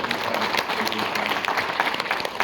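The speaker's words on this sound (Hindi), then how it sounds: "अभी तालियां आप बजा रहे हैं," Audience at a Hindi comic poetry gathering (hasya kavi sammelan) applauds steadily, a dense wash of clapping filling the room.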